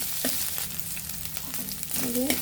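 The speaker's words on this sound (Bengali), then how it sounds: "এখন আধা চা চামচ পরিমাণ আদা রসুন এর মাঝে দিয়ে দিব। ভালোভাবে কষে নিতে হবে" Ginger-garlic paste fries with onions in a pan for an egg and onion-greens curry, a close, dense sizzle with scraping stirring strokes and a few faint tonal squeaks.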